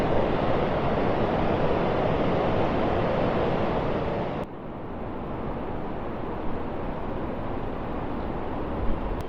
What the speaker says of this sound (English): the fast flowing River Derwent, is a hell of a lot higher than it usually is